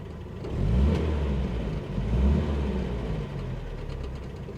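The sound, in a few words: 1960s car engine idling, heard inside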